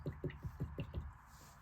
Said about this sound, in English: I'm going to clean my brush out with my cup of water